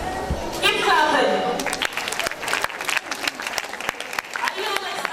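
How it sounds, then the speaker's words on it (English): At the official launch of Nigeria's Space Ambassador Scheme, a crowd keeps up sparse, uneven clapping with sharp individual claps, while a voice talks over it and crowd noise carries underneath. "Keep clapping."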